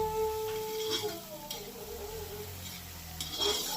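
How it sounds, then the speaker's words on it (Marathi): Onion fries in oil in a pan for a dried bombil fish chutney, giving a soft sizzle broken by occasional utensil scrapes and stirring. There is no talk. "आता इथे कांदासुद्धा मी तेलामध्ये परतून घेते"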